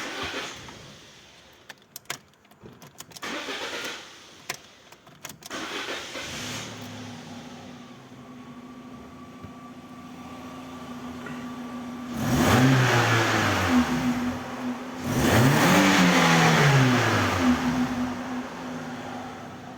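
A car engine with a fault that makes it blow heavy black smoke cranks and catches after some key and handling clicks, then settles into a steady idle before two loud, rising revs up close.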